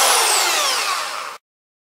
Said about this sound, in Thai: การเจาะรูกล่อง power box นี่ก็ใช้ที่เจาะแบบสวยหรือแบบเจดีเจาะให้ได้เท่ากับขนาดเส้นผ่าศูนย์กลางของอุปกรณ์ที่ต้องการ